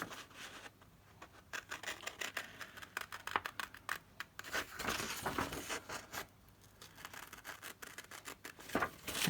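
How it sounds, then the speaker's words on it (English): Scissors cutting around a shape in paper make close, crisp snips and rustling paper scrapes in irregular bursts with short pauses, quiet overall and without talking. "So I'm going to cut around the shape."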